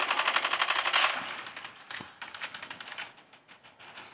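A maxed-out HOLGER 26 heavy machine gun fires in Call of Duty Mobile. A fast, rattling burst of fairly faint shots gives way to a sparser stutter of single rounds, with no voices.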